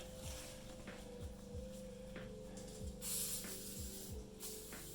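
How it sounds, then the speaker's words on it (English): Brake cleaner sprayed onto the brake parts of a 2011 Cadillac SRX during a rotor and pad swap gives a few short hissing bursts over a steady low hum, with scattered soft clicks. "I'll find my brake cleaner, I'll give them a quick cleaning."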